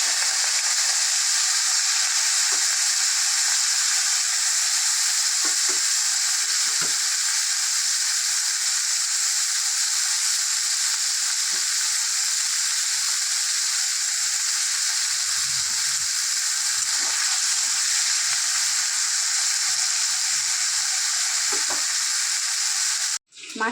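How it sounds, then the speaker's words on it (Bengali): Fish fries in hot oil in a wok, giving a loud, unbroken hiss and crackle that holds steady and close for the whole stretch, with no voices. "এরপর মাছগুলো ভেজে নেব।"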